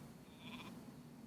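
A sheep bleats once in the video game Northguard, a short wavering call over a steady low in-game ambience, fairly faint and with no talk.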